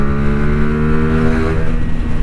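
A CF Moto 450 SR motorcycle engine drones steadily while riding, a loud, close, even hum with strong harmonic tones and a slight rise in pitch toward the end.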